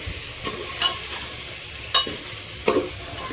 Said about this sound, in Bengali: সবগুলোই দিয়ে আমি ভালোভাবে কষিয়ে নেব